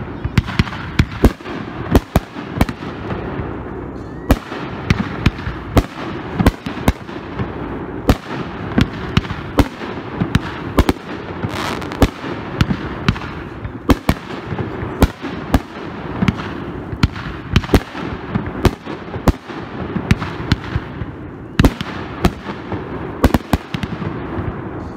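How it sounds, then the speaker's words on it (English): A Mount Rushmore consumer firework assortment is set off outdoors at a demo, firing a long run of sharp booming bursts and crackling pops at an uneven rapid pace, loud and close. "Next up, we're going to shoot the Mount Rushmore assortment."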